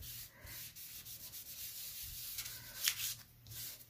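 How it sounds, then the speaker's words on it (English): A dry brush sweeps excess ink colour across the paper of a handmade thank-you card, giving a soft, steady rubbing sound with a few sharper scratchy strokes, close and quiet, with no talking. "I just switch it over to a clean side and then brush off any excess"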